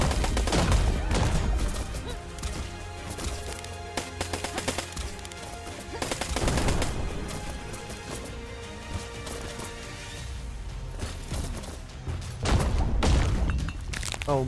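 Heavy explosive bursts from mortar fire in the PC game Black Skylands, several loud booms and crackling volleys arriving in clusters, with a dense bed of game effects between them.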